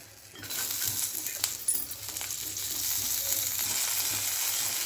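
Green chillies roasting in a pan for a fresh pigeon pea amti, a steady close sizzle with a few light clinks and stirring scrapes, with no talking.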